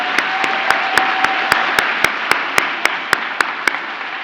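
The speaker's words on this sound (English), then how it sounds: "A massive round of applause," Graduation ceremony crowd applauding the graduates, a dense wash of clapping punctuated by a steady, evenly spaced sharp clap close by, roughly four per second.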